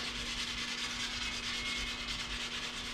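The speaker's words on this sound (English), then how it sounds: "slowly rotate the paddle as I just sand it in a very smooth," A wooden paddle being hand-sanded in smooth, slow rotations, making a continuous, even, close rubbing rasp over a faint steady hum.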